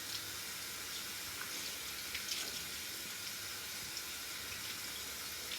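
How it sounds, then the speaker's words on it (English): Tap water runs steadily over a synthetic wig being washed, a continuous hissing splash at moderate level with faint irregular spatters and no voices. "we're going to run the water over the wig"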